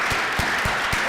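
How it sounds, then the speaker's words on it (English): An audience at a talk gives a short burst of applause, heard as four sharp, evenly spaced claps standing out over a steady wash of crowd noise. "if we can give them a round of applause"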